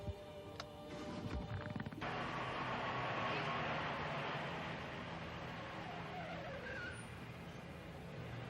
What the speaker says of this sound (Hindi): चलिए आप गाड़ी शुरू कीजिए